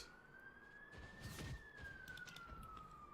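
A wailing siren sweeps steadily up and then back down at moderate volume, used as the boss alarm in a fantasy dungeon game, heard alone with no talking.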